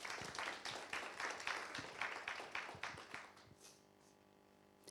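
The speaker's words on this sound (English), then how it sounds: "So let's give them a big round of applause." An audience at an academic conference session on interdisciplinary research and ESG for planetary health gives applause, steady clapping from a modest crowd that fades out over the last second into near silence.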